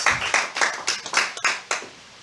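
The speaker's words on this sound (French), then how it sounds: "Applaudissons très fort le Seigneur Jésus-Christ." Congregation in a church clapping in a lively, rhythmic burst of strong claps that fades out toward the end.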